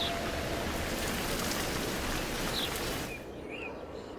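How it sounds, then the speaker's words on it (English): Steady rain falls across a wetlands map in the video game Villagers, a soft continuous hiss that fades slightly near the end, with no talking. "with all this rain"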